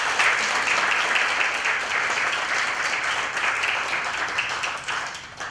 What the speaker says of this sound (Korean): 다시 한번 감사의 박수를.